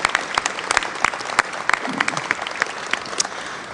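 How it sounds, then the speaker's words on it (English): Steady applause from a crowd at an annual meeting, many hands clapping at once in a dense, continuous patter. "give all our new members and stakeholders a warm round of applause"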